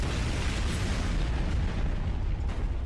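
A cartoon explosion from SpongeBob SquarePants fills the whole stretch as a loud, dense, sustained roar of blast noise with rumbling low end, no voices over it.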